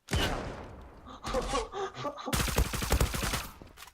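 Gunfire crackles in a competitive first-person shooter match: rapid bursts of shots, loud and close, heaviest in the second half, mixed with short gasping vocal sounds.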